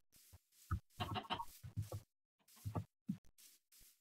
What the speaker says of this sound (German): Hier laufen ein paar Hühner rum.